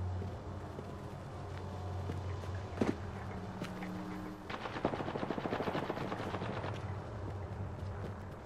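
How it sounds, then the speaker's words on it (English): Rapid automatic gunfire from the Apex Legends video game, with a few scattered shots and then a sustained burst of quick, evenly spaced rounds, moderately loud over a low steady background hum. "Taking fire."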